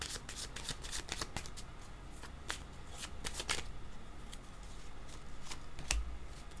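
Oracle cards shuffled for a reading, a run of quick crisp riffling snaps repeating close by for several seconds over a soft background hiss.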